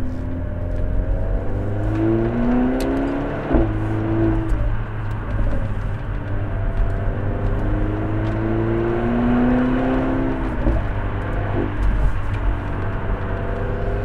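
A Renault Megane RS engine drones steadily with the exhaust rumbling, in race mode, rising and falling through a few revs, heard from inside the moving car.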